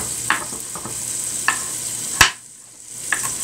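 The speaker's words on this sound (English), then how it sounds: "Sorry that knife is so loud." A knife chops two carrots on a cutting board in a home kitchen, giving a few sharp, sparse taps over a steady background hiss.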